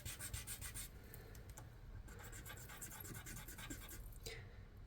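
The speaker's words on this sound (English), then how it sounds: "You can actually just sand it down, make sure that it's nice and straight the way you want it." Polymer clay is sanded by hand with very fine grit sandpaper, giving a faint, steady rubbing and scratching with repeated strokes close to the mic.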